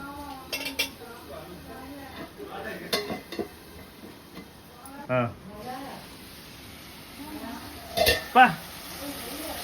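Chicken thokku with onion and tomato is stirred in a pan, with scattered clinks and scrapes of a spoon against metal amid a faint background sizzle, while a voice talks over it.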